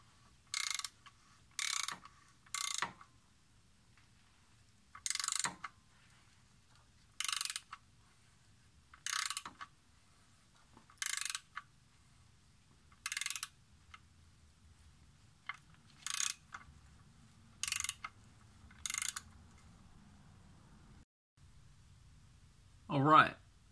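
Repeated bursts of ratchet clicking as a tap cuts threads into a Mazda Miata oil pan, about a dozen short clear ratcheting runs separated by quiet pauses.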